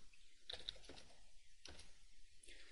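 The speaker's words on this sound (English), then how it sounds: "Typing the command show interface brief" Soft keystrokes on a computer keyboard as a command is typed for a ProCurve/Aruba network switch over telnet: a few faint, scattered clicks in a quiet room, with no talking.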